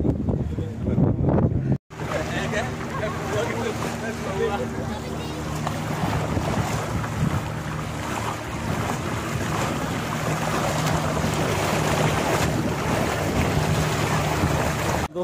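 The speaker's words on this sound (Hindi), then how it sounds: "अंदर जाके काफ़ी लहरें थी और हमारी नाव छोटी थी" A small boat rides rough waves at sea off Goa under a constant loud roar of wind buffeting the microphone and churning water, with a brief drop-out near the start.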